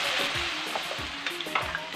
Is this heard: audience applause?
no